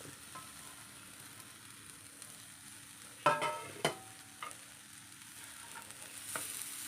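Soft sizzling fills the background as a utensil scrapes and clinks against a pan a few times while papaya thoran is stirred.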